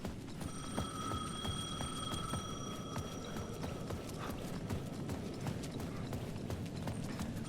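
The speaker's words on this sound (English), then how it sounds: "The payphone at the edge of the plaza was ringing again." Payphone at the edge of a plaza ringing in Alan Wake 2, a bright electronic bell trill heard in the first half over a steady low ambient rumble, then fading out, with clicking taps continuing afterward.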